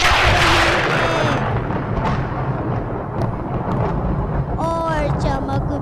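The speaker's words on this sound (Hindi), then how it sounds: "बादल जोरों से गरज रहे हैं." Heavy thunder rumbles through a dark, rainy night storm, a broad low roll sustained across the whole span with rain-like wash, while a voice speaks over it in places.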